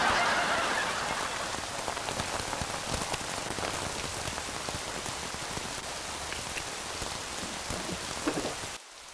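Heavy rain pours steadily outside, a dense, continuous hiss of drops striking surfaces, loud and close throughout before cutting off abruptly near the end.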